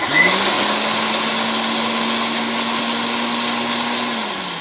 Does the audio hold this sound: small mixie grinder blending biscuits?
yes